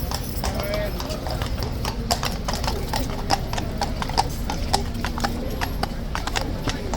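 Horse hooves clip-clop on pavement during the Horse Guards changeover in London, a steady and fairly close rhythm under the chatter of people nearby.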